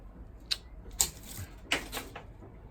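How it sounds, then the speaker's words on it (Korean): Pruning shears snip branches of a weeping fig (Ficus benjamina), giving three sharp, faint clicks spaced about half a second apart with no voices. "이게 이렇게 툭 튀어나왔으니까 얘는 잘라 없애야 될 것 같아요."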